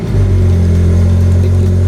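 Mazda ND Miata with a carbon fiber body and 2.0L engine starts up on a weak battery, giving a loud steady low drone from close by with no voices.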